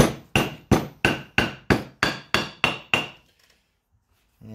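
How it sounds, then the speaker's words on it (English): Metal hammer strikes driving an OEM valve seal into the head of a Honda GX390 engine, ten sharp evenly spaced blows in quick rhythm, loud and close, then silence. "So what I'm going to do is start it with the hammer."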